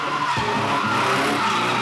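A drift car engine roars up close while tires squeal and skid at a drift event in Logoisk, Belarus, the revving pitch sliding up and down over a couple of seconds.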